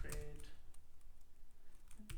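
Faint, scattered key taps on a computer keyboard as a command is typed, a few soft clicks spread unevenly through a quiet, low background hum.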